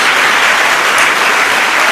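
A church congregation applauds in a steady, dense roar of many hands clapping together, loud and continuous throughout with no voices standing out.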